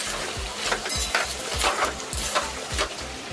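Chicken liver and gizzard curry is stirred in a pan while it sizzles, with rhythmic spoon scrapes and taps repeating about twice a second, close and clear, and no talking.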